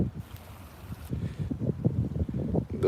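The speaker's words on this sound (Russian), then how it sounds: "С утра небольшой дождик, ветер." Steady wind buffets the microphone beside the sea in light rain, with a low surging rumble of waves underneath.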